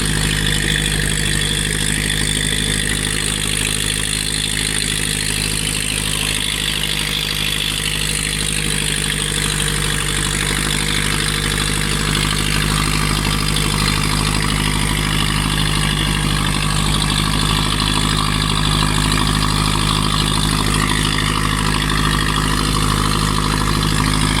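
A motorboat engine runs steadily at idle for the whole stretch, a constant droning rumble close by with no speech.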